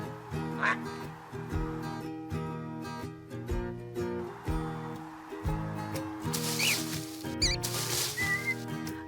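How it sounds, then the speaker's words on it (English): Duck quacks sound in short repeated bursts over bouncy children's music, with a couple of brighter chirps and squeaks near the end. "It's a duck. A duck."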